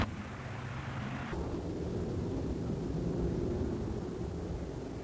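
Engines of a B-29 Superfortress bomber rumble in a deep, continuous roar, dense and steady like a distant heavy droning for several seconds, with no talking.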